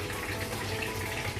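Water pours steadily into a cooking pot for Iraqi tashreeb, a continuous soft gushing splash at low level with no talk.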